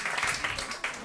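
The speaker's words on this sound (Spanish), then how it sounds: "Un aplauso para Pepiu, por favor." Studio audience applauding for a guest named Pepiu at a live end-of-season Spanish talk show, a dense continuous wash of clapping throughout the short moment.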